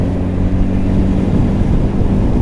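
An inline-four motorbike engine running steadily nearby, a loud, smooth, continuous low drone with a constant hum and no breaks.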